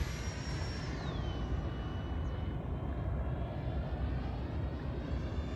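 An airplane engine at half throttle in flight gives a steady, loud broadband drone with a faint whine that stays even throughout, no voices heard.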